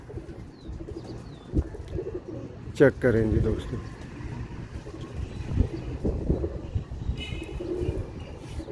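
Sialkoti rooftop pigeons coo softly in the background while someone talks over them, with light wind and a few faint chirps.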